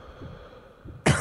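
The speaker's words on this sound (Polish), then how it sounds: "W ogóle przepraszam za ten kaszel." A single sharp cough bursts out near the end, loud and close, after a stretch of quiet low background noise.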